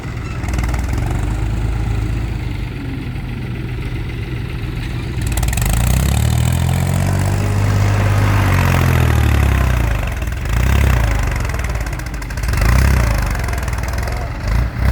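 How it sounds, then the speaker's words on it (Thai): A three-cylinder engine idles with a steady low chugging rumble, loud and near, rising and falling slightly at times, with no talking. "อันนี้เป็นเครื่องยนต์สามสูบหรอสามหรือสี่สูบ น่าจะเป็นสามสูบอะ"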